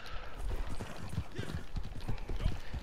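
Horse hooves galloping in the open world of Red Dead Redemption 2, a steady rapid clip-clop rhythm throughout, fairly close and loud over game ambience.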